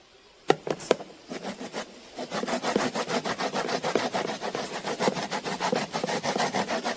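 Lemons scraped against a grater for zest, a quick run of close, rhythmic rasping strokes after a few sharp initial taps, steady and fairly loud with no voices.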